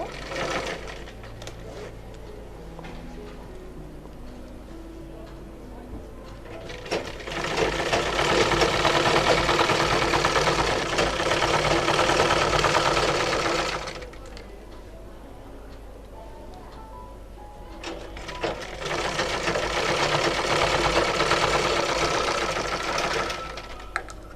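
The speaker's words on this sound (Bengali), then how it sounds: "বডির এই কাপড়টা ওপরের দিকে এভাবে করে রেখে সাইডে আমি সেলাইটা করবো" Domestic sewing machine stitching the side seam of a child's long gown, running in two loud sustained bursts of rapid whirring separated by quieter pauses with faint handling sounds.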